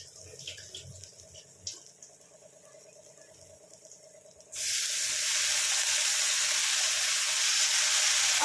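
Soaked red lentils go into a hot pan, and a loud, steady sizzle bursts in halfway through and holds to the end, after quieter clinks and faint kitchen noise.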